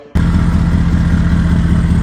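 A Ford Powerstroke diesel truck engine's exhaust fires up abruptly and holds a deep, steady, loud rumble close by, with no voices.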